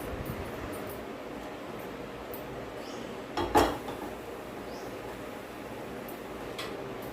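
A cooking pot is set down on a stove with one short metallic clunk and clatter midway through an otherwise quiet kitchen background, with no one talking.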